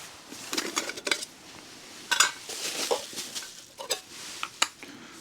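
Thin titanium parts of a small alcohol camping stove are handled at close range, making light metallic clinks, taps and chinks scattered irregularly through a quiet outdoor setting.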